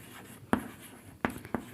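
Chalk or marker tapping and scratching on a board in a Hindi grammar class, three distinct strokes in quick succession, faint and close in a quiet room.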